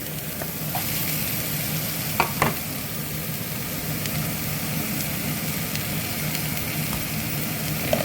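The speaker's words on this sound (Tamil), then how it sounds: "இப்போ நான் லீக்ஸை போட போகிறேன்." Leeks sizzling steadily in a hot pan for a Tamil leek, bean and carrot stir-fry, with a continuous frying hiss and a couple of brief stirring scrapes, no voices.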